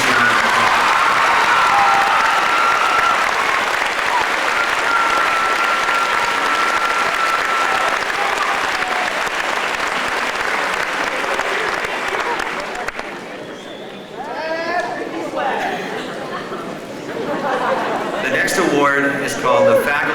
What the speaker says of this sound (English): Please give these folks a tremendous round of applause.